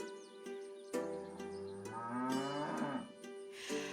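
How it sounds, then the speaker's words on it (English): Cows in the farming video game Milkmaid of the Milky Way moo from a shed, several long, drawn-out lowing calls in succession, clear and close with brief gaps between them. "I heard impatient mooing from the shed"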